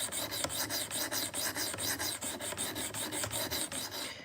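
Rhythmic rasping strokes of a knife drawn across a sharpening stone to raise a burr, about three strokes per second, close and even, with no voices.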